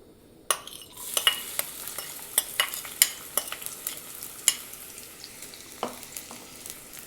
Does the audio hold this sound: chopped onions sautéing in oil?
yes